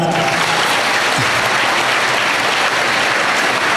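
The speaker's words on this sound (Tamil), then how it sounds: "கைத்தட்டணும் நீங்கள் நல்லா" An audience claps loudly at a school birthday celebration for Kamarajar, dense, even applause that holds steady from start to finish.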